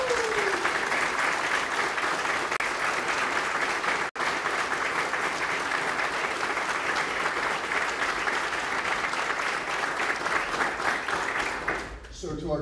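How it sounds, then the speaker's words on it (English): Sustained, dense applause from an audience at an Army Reserve base command ceremony, a steady wash of clapping that holds for about twelve seconds before tapering off at the end. "can we get a round of applause for all those people?"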